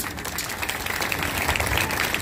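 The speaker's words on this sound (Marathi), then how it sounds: "त्या सगळ्यांच्यासाठी परत एक तुम्ही टाळ्या द्या" Audience applause at a school function honouring teachers' grain rangoli, a steady wash of clapping held throughout, fairly close and continuous with no speech over it.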